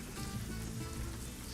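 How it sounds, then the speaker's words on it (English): Rain begins falling in a trucking video game, a steady soft hiss of drops pattering on a surface, continuous and fairly faint. "All right, started raining."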